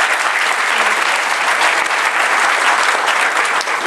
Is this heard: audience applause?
yes